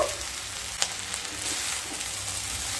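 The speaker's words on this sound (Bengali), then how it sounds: "মিশিয়ে নিয়ে আবারও এক থেকে দেড় মিনিট হাই স্টিমে একটু রান্না করে নেব" Vegetarian chow mein frying in a pan over high heat: a steady close sizzle with soft stirring scrapes running throughout.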